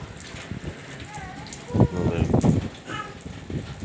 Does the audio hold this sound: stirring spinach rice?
no